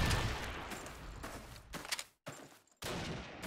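Gunfire in the game Call of Duty 2 during a competitive match, a quiet run of rapid shots and bursts that drop to brief silences before resuming.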